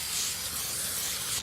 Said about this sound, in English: okay, you spray it? Okay. Just a tad.